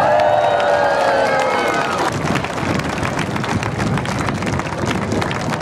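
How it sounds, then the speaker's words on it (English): Outdoor air show crowd at a Red Arrows display cheers and claps steadily, a broad continuous roar of many voices with a tonal shout or aircraft whine fading in the first two seconds. "Big cheer!"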